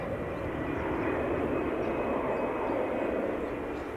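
An airplane passes over near an airport runway, a steady broad roar of jet engine noise that holds fairly constant and moderately loud, with no talk.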